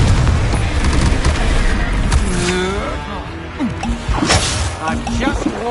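Confringo blasting-spell explosions in a Harry Potter video game, loud bursts and whooshes amid constant battle noise and dense spell effects, with shouted voices over the top.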